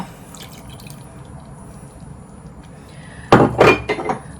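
Soft peach pieces drop into a pot of peach jam: a few quick close wet plops and clinks near the end, after a stretch of quiet room tone.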